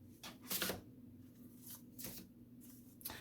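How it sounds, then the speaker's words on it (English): Soft riffling and sliding of tarot cards being shuffled close by, in several short bursts, quiet and with no voices. "let me talk about these while I shuffle these ones"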